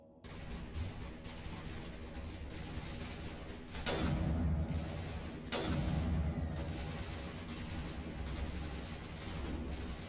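A pistol fires inside a video game: two sharp shots about two seconds apart, each with a ringing tail, over a steady bed of game ambience.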